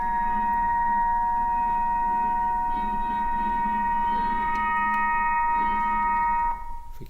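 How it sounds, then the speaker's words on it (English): Aeolian ukulele sounding in ocean wind on a wharf, sustained steady harmonic tones ringing together over a constant wind rumble, continuous and fairly loud before stopping abruptly near the end. "This is the sound of an Aeolian ukulele"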